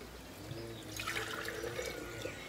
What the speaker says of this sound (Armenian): դրա մա պետք է մի քիչ ջուր լցնեմ